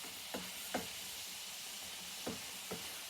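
Minced meat browning in a pan for spaghetti bolognaise, a quiet, steady sizzle close by, broken by four brief scraping strokes as the meat is kept moving.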